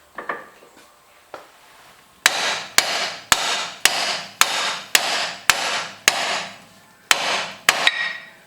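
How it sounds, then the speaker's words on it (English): A heavy 4-pound hammer strikes again and again on a stuck front shock part of a 2010 Mazda3. After a few light taps come about eleven loud, close metallic whacks at a steady rhythm, each ringing briefly. "depending on how stuck on there it is, it might take a few minutes of whacking"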